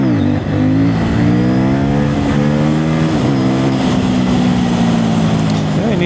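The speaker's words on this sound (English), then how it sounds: "I need to get used to this bike a little bit, because the gas response is very smooth, but just different than I'm used to." A CFMOTO 800NK Sport 2024 motorcycle engine pulls loudly under acceleration while riding, its pitch climbing through gears in smooth sweeps with brief dips between shifts, close up with steady wind roar.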